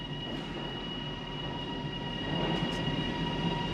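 A train in Spain starts to move after power is applied, a steady low rumble of wheels and machinery that swells slightly midway and carries on without speech.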